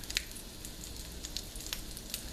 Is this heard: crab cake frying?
yes